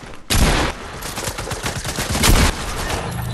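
Close, loud SMG fire from a Fortnite match rattles in a continuous rapid burst, peaking twice, with no talk over it.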